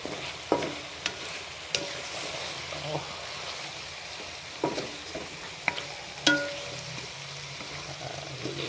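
Chilies drop into a hot pan for Bicol Express and fry with a constant sizzle, while a utensil scrapes and knocks against the pan in sharp, irregular clacks up close.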